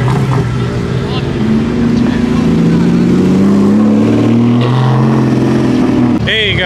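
A BMW G80 accelerates away from a rainy Cars & Coffee meet, its engine note climbing through rising revs in a loud, close roar, then a sharp shift in pitch near the end.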